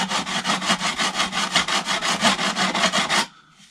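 A stone rubs back and forth along a splitboard edge in quick, even strokes, about a dozen rasping passes close up, ending abruptly into near silence.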